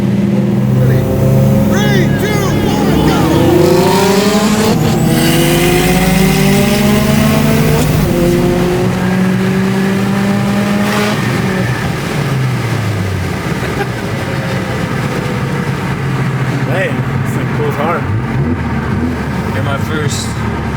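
An 800hp Chevrolet Silverado and a 450hp Subaru STI street racing in Mexico, engines revving hard and climbing through gears with rising, falling pitch sweeps, loud and close, with people talking and shouting over the roar.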